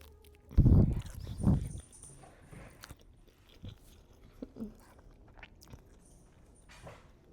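Close-miked chewing and biting of food during a mukbang, with two loud crunchy bites near the start, then softer intermittent mouth and chewing noises.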